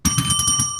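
A single bell rung once, a bright ringing tone with a pulsing shimmer that sustains for just under a second, close and loud.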